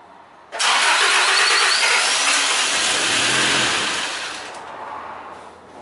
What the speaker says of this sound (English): next I start this engine